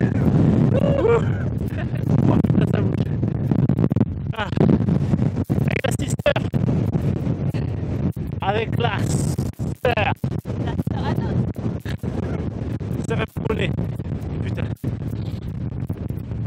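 Strong gusting wind buffets the microphone on a mountain hike to the Dents de Roque Forcade, a loud, continuous roar with bursts throughout, while people talk over it.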